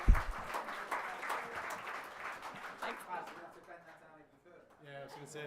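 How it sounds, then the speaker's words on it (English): Applause and cheering from an awards ceremony audience welcoming a presenter, a dense wash of clapping that starts loud and tapers over several seconds into scattered claps with voices. "give Paul a clap"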